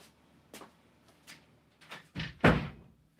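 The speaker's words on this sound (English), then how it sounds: "Let me close this door." A door in a hot garage used for resin casting is pulled shut: several soft knocks and shuffles build up to a couple of heavier thuds at the end, fairly quiet overall.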